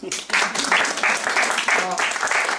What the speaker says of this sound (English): Shall I see the clap?